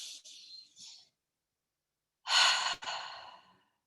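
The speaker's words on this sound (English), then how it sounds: "3 deep breaths." Two deep breaths drawn in and slowly let out during a guided tapping session, the first softer, the second louder and fuller, each fading away with a gap of silence between them.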